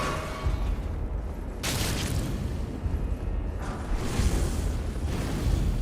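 Fiery barrage raining down from above during Messmer's attack in Elden Ring's Shadow of the Erdtree at the Ancient Ruins of Rauh: a steady roaring rumble with two louder whooshing surges, no talking.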